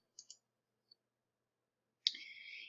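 Computer mouse clicking a database link in a library site, two faint quick clicks, a single tiny tick, then a brief brighter tone, all in near silence.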